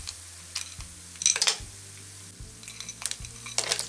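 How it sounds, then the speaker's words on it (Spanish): Frozen clams sizzle and crackle in a frying pan, with a steady hiss broken by irregular ticking pops and a few louder spitting bursts, heard close up and alone. "Que vayan friendo un poquito, así le da el gusto."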